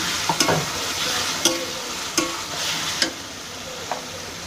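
Chicken fries in a pan as ginger garlic paste goes in, giving a steady, fairly loud sizzle broken by several sharp spoon clinks and stirs at irregular intervals, with no voices.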